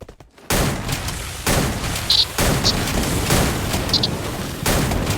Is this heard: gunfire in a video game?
yes